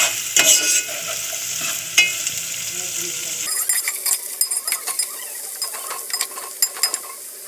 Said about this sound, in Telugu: పచ్చి వాసన పోయేంత వరకు బాగా వేపాలి